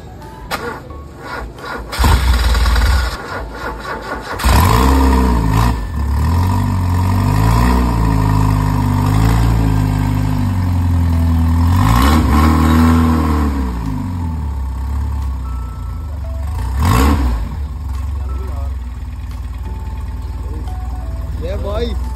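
A car engine cranks and catches, then revs up and down several times before settling into an idle, with voices talking over it.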